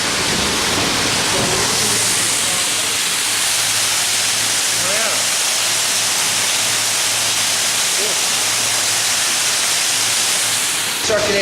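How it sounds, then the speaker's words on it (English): Water pouring into a tank at a whiskey distillery, a loud, steady broadband rush that continues for the whole stretch, with faint voices talking underneath. "Rory, you put the water in now"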